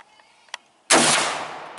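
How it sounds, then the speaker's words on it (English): A single loud, close gunshot at an outdoor shooting range strikes a silver pasta can, a sharp crack followed by a fading rumble and faint click. "Shoot that silver pasta can."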